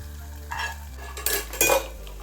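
Fried cashews and coconut pieces are stirred into jaggery payasam cooked in a pressure cooker, giving a few sharp spoon-on-vessel clinks and scrapes over a low background hum.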